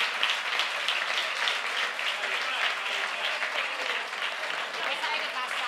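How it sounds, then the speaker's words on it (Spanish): Sustained audience applause for author Juan Gómez-Jurado at the Badajoz book fair, a dense, steady wash of many hands clapping throughout without pause. "Un fuerte aplauso para Juan, por favor."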